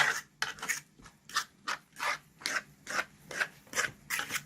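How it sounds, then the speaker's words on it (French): A fork mixes couscous semolina in a bowl, making about ten evenly spaced gritty scraping strokes in a steady rhythm, close and fairly loud, with short silences between strokes. "Et puis, vous mélangez avec une fourchette"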